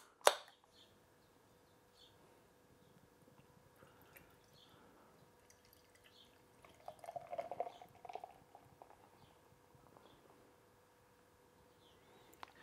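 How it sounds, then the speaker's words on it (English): Hazy Purvis beer poured into a glass, a soft gurgling splash that swells for about a second and a half midway through an otherwise quiet stretch. "let me pour it."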